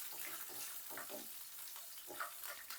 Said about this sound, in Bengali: খুব বেশি কিন্তু জিরেটাকে ভাজলে হবে না, জাস্ট একটু হালকা তেলের সাথে ভাজা হবে কয়েক সেকেন্ড